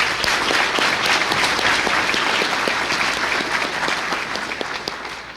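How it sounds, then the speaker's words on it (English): An awards-ceremony audience at the Rocket Club Awards 2019 claps loudly for the athletes, a thick, steady roar of many hands with crisp individual claps poking through before it slowly tapers off. "So let's give all of our athletes one more round of applause."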